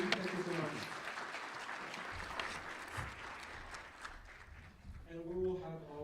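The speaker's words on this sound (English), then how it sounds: "let's get another round of applause for Jun." Audience applause at the UIST 2022 conference, a moderate wash of clapping that thins toward the end before a voice comes in.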